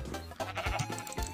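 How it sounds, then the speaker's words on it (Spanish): Blocky Minecraft sheep bleat in a survival game, a few short wavering baas close by over a steady low game background hum. "Oveja, ven acá."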